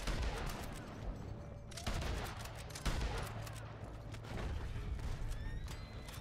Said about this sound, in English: Buffy's guns is just like a stream of bullets.